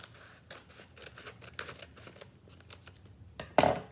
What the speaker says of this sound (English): Then you are going to take your pair of scissors and you're going to cut